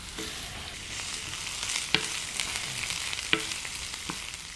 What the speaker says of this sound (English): Hot pan, oil. Gonna fry the aromatics first, as always.